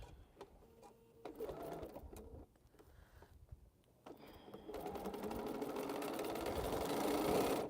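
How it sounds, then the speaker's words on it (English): A domestic sewing machine stitches quilt rows together in bursts, starting and stopping in short runs before settling into a steadier, louder hum toward the end. "So, so now we're going to start sewing these rows together."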